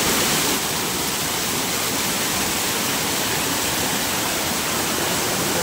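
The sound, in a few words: waterfall in Dapoli, Konkan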